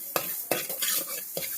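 Fenugreek and mustard seeds fry in a pan for gongura pickle. Three quick scraping strokes of a spoon against the metal sit over a light sizzle.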